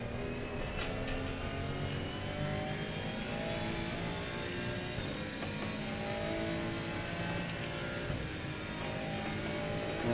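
A race car corners hard through the chicane at Donington on a gamble with its tyres, sliding as it goes, its engine a steady, loud, continuous roar with no voices over it.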